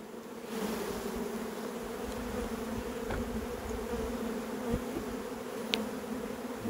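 Honeybees droning in an open hive during inspection, a steady, close, moderately loud buzz with a few brief passing tones and no talking.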